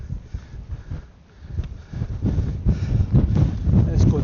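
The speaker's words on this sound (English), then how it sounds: "So just the wind to contend with tonight." Wind gusts buffet the microphone at a winter wild camping spot in the UK, a low rumbling roar that swells and strengthens toward the end, with some faint talking underneath.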